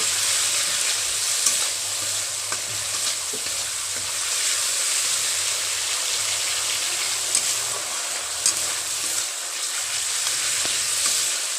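Spice paste with turmeric powder fries steadily in oil for Bengali sukto, a dense continuous sizzle heard close up with a few faint clinks and no voices.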